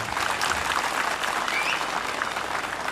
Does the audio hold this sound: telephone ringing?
no